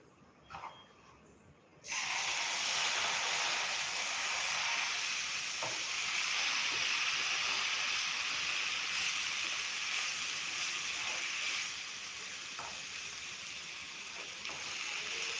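Milk is poured into roasted grated coconut in a hot pan, setting off a sudden, loud, steady sizzle and hiss that keeps going and eases slightly near the end.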